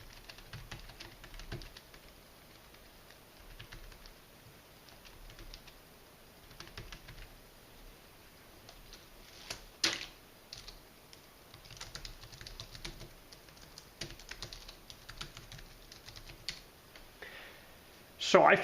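Typing on a Bluetooth keyboard tablet case for a Samsung Galaxy Tab A8, soft quick key clicks in uneven bursts, close and fairly quiet, with a louder clatter at the end.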